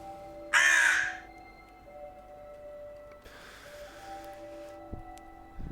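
A single loud, close crow caw rings out near the start, followed by a fainter rasping call later over a quiet hum, with no talk.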